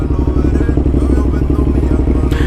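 A motorcycle engine runs close and loud with a steady, throbbing low exhaust pulse that holds a fairly even pitch throughout, with a faint clatter near the end.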